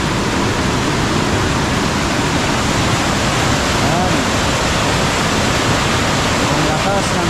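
Strong water rushing hard during rain, heard as a loud, unbroken broadband roar that stays constant throughout, with faint voices partly buried beneath it.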